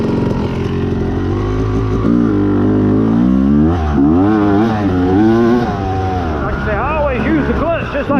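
A dirt bike pulls away without using the clutch, only the back brake, its engine revving and rising in pitch close by, with a voice talking over it.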